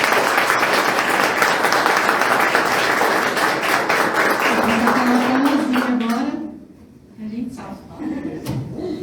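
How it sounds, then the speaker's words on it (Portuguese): An audience claps loudly at the close of a building-inspection talk, sustained applause for about six seconds before it fades into scattered claps and a brief voice. "Uma salva de palmas para eles."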